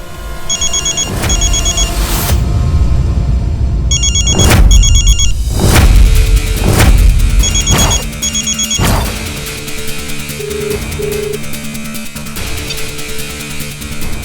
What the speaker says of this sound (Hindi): अच्छा, तुम्हारा फोन बज रहा है?